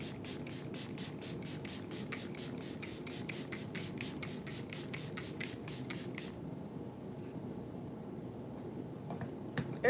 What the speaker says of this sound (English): this is the powder melt glass setting spray from One Size